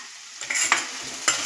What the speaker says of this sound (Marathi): आता हे परतून घेत आहे मी तेलामध्ये